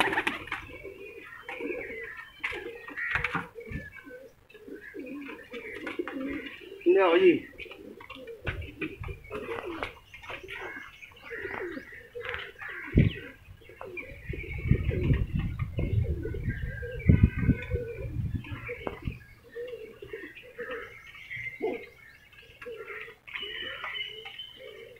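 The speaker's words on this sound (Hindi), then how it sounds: "ये मेरा हरा कबूतर है" A green pigeon coos in bursts among other pigeons at a coop, with softer calls and rustling around it and someone speaking briefly.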